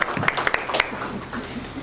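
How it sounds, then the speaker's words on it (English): Audience applause at a theme-park studio backlot show, a short burst of scattered claps near the start that thins out as a voice speaks over the crowd. "Give her a round of applause."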